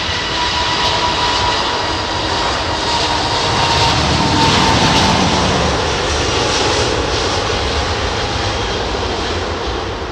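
An airliner's jet engines at reduced, derated takeoff thrust on a windy day at London Heathrow produce a continuous loud roar that swells slightly toward the middle and then eases, with no talk.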